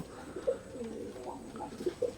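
Teddy pigeons of an imported bloodline coo softly while feeding their chicks, a few short close coos standing out over a quiet room.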